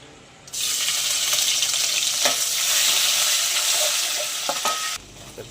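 Onion hits hot oil in a pan for a liver curry and bursts into a loud, steady sizzle that holds for several seconds before cutting off abruptly, with a few light stirring clicks.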